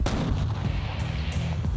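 A single loud gunshot fired at a sandhill crane on a hunt, a sharp blast that booms and rolls off into a sustained outdoor rumble lasting nearly two seconds, with no voices.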